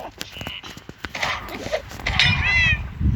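A cat lets out a short, wavering meow near the end, amid scattered knocks and scuffling noises.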